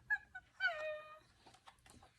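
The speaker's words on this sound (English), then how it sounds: "Richie rattled the box of special treats, but Jake just whimpered." A dog whimpers in a few short, high, wavering whines inside a narrated children's story, fairly close and clear, with no talking over it.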